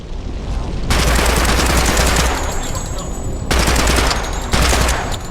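Automatic rifle in Project Silverfish blazes in long sustained bursts, a dense loud rattle of rapid shots with brief pauses between volleys, close and overwhelming.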